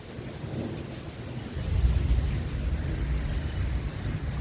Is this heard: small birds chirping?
no